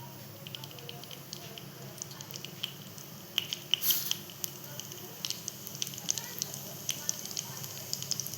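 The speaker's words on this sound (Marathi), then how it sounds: "आता इथे तेल तापवून घेतलेलं आपण. जिरं आपण टाकते जिरं." Cumin seeds crackle in hot oil in a pan for a spicy village-style Marathi thecha meal. Dense, fine popping and sizzling run continuously, fairly soft, with a brief louder hiss near the middle and a faint voice underneath.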